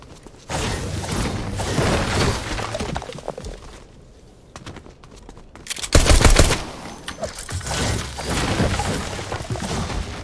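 Rapid gunfire from Fortnite, with dense bursts of shots nearly continuous for several seconds, a short lull, then a loud sharp volley and further sustained firing in a busy battle.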